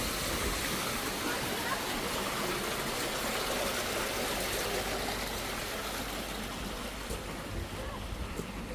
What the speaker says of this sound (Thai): ใช่น้ำตก